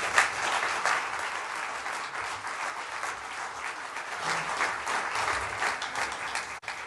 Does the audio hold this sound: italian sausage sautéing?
no